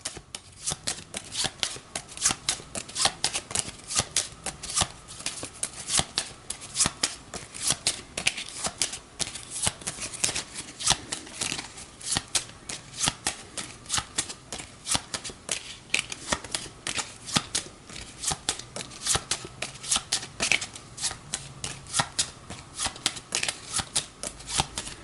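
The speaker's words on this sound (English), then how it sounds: "As I send some of the cards flying from said Automa deck." Cards from an Automa deck for the board game Age of Innovation are shuffled and flipped in continuous rapid riffling flutters and snaps, close and crisp, with no talking.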